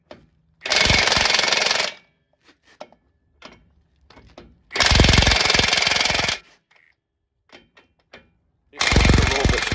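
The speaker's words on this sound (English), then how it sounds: "we turn this new Milwaukee 1-inch drive wrench" A Milwaukee 1-inch drive cordless impact wrench hammers in three loud, close bursts of about one to one and a half seconds each, separated by quiet gaps with small clicks and handling noises.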